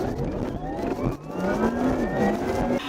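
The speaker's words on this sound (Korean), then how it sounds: "100km 가속 시간거리 측정해 봤습니다" A Porsche Taycan Turbo S electric car with up to 761 horsepower accelerates to 100 km/h, its electric motor whine climbing steadily in pitch over road and wind rush inside the cabin, with no talking.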